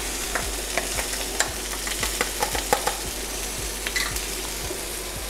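Garlic and ginger sizzle in a hot wok during a Thai-style chicken and cashew stir-fry, a steady frying crackle with scattered sharp pops and light stirring clatter, close and continuous with no talk.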